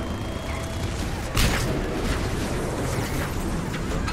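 A grenade goes off in Mass Effect 3 during an assault on a Cerberus base, a sudden loud broadband blast at about 1.4 seconds that rises out of constant rumbling game noise and then fades back into the din.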